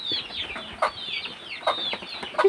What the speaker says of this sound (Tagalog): Ayan po yung aking mga sisiw.